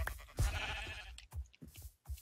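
Sheep bleat in a Minecraft game with a wolf-like dog attacking the flock, giving a couple of loud close bleats followed by shorter scattered calls.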